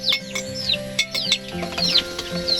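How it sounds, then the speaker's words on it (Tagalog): Small chickens peep and cluck in quick, irregular bursts close by, with high chirps over a low steady hum. "Mga manok na gagmay, yung maliliit na manok."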